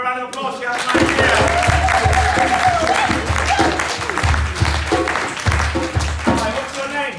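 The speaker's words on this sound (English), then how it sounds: "Can we give her a round of applause?" Audience applause at a mental health and suicide performance project, a loud, steady wash of clapping that runs for several seconds with voices talking and calling out over it.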